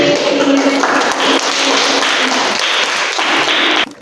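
A classroom of students claps loudly and close, the clapping falling into block-like rhythmic bursts that end abruptly, with some voices mixed in.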